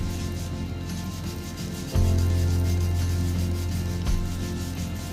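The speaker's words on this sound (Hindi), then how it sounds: "ये अभी आपको एक साउंड सुनाई दे रही होगी, वो साउंड बेसिकली इसको जब हम मर्ज करते हैं उसी से आ रही है।" Oil pastel rubbed and blended on paper, a steady soft scraping texture that continues alone throughout, with a couple of heavier strokes midway and near the end.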